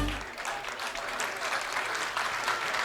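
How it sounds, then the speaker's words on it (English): Crowd applause at a high school football game between Menomonie and Holmen as an injured quarterback is carted off the field, a steady broadband clapping that fills the clip from start to finish. "that applause is for quarterback Cameron Weber, who was lifted very stiffly on the back of a cart"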